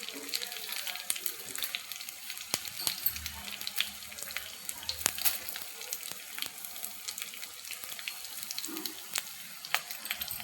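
Coriander seeds and dried red chillies dry-roasting in a pan give a steady, close crackle and hiss, scattered with sharp pops and ticks, running continuously throughout.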